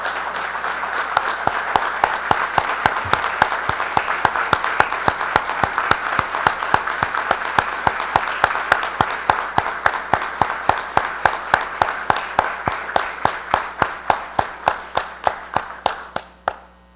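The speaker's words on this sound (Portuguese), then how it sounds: "E eu quero pedir a todos uma efusiva salva de palmas a todos eles" Applause at a formal ceremonial session honoring people, many hands clapping steadily in a dense, rapid rhythm that runs nearly the whole time, then thins and fades out at the end.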